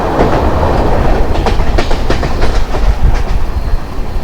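The Saraighat Express from Howrah to Guwahati rumbles past loudly and close, its wheels beating a steady clickety-clack over the rail joints throughout.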